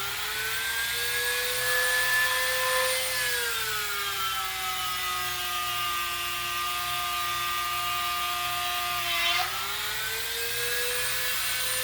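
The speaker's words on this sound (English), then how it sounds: "I take my Dremel" A Dremel rotary tool drills into wood for a homemade wooden rat rod model, its steady high whine running continuously and dipping in pitch as the bit loads up, then rising again near the end.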